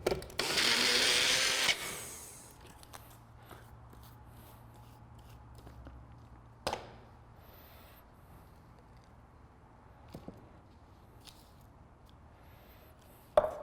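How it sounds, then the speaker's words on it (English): Magic Bullet blender whirs loudly in one short burst at the start, mixing keto hot chocolate, followed by quiet handling clicks and taps. "mix it up in the Magic Bullet"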